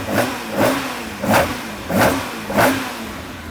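A Nissan S30 fitted with a motorcycle engine revs hard five times in a steady rhythm, each sharp, high-pitched blip rising and falling back to a rough idle between pulses, loud and close with no talking.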